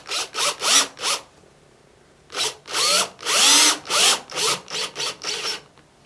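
A power drill drives a small wood screw near the base of a knife-making blade, a series of short close buzzing bursts, a few quick ones, a pause, then longer rising whirs.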